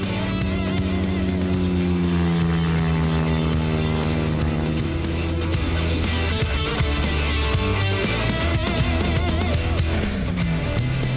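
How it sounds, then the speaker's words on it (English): A 1976 Ford Escort Mark I race car pulls away from the start line at a speed week event, its engine roaring loud and steady with rising harmonic pitch as it accelerates, heard alone without talk. "Harold Fenter leaves the start line in his magnificent 1976 Ford Escort Mark I"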